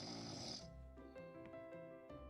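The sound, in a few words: carved-face cauldron snoring in video game Phenexa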